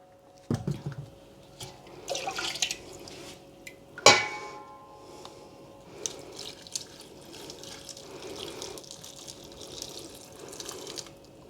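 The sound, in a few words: white vinegar being poured into pickling jars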